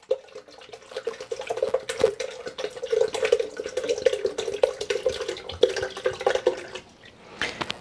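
Water pours steadily from a 25-ounce bottle into a container, a close, bubbling, glugging stream running for several seconds before tapering off near the end.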